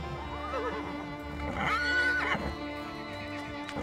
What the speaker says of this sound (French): Ces chevaux sauvés par la Fondation n'ont plus rien à craindre.